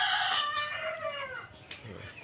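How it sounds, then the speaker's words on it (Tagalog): Chickens cluck and crow nearby in quick overlapping calls, a short burst of farmyard fowl noise with no talking. "Nakakatuwa yung mga manok, ang dami."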